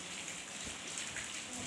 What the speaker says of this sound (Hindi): ये देखो कितनी जम के बारिश हो रही है।